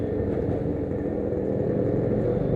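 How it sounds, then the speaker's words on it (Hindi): A loud, modified Yamaha RX 100 two-stroke motorcycle with dual silencers passes nearby, its low engine rumble steady and building toward the end, with no talk over it. "तो ड्यूल साइलेंसर की कुछ ओल्ड जावा टाइप की बाइक लग रही है। RX 100 बहुत लाउड साउंड है"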